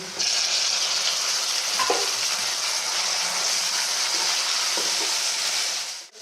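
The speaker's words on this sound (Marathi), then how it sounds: "टोमॅटो सुद्धा मऊ होईपर्यंत परतून घ्यायचा" Finely chopped tomato fries with golden onions in a pan for Saoji dal kanda, a dense steady sizzle with occasional light stirring taps, ending abruptly.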